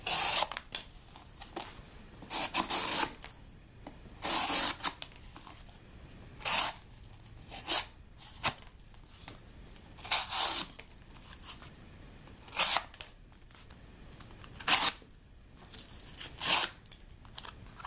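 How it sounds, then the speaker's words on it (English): A Benchmade 707 Sequel knife slices through cardboard in a series of short, crisp tearing and scraping cuts, spaced apart by quiet pauses, close and clear. "Now for the cardboard cut test on the 707 sequel."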